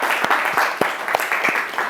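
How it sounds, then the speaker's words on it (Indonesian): Students in a classroom give a short burst of applause for two classmates, with a few distinct loud claps over a bright wash of clapping and no talking. "Saya akan berikan tepuk tangan untuk Dimas dan juga Rio"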